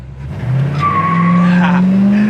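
A 1966 Chevelle engine revs and drones loudly up close, its pitch rising steadily, with a high squealing tone riding over the roar.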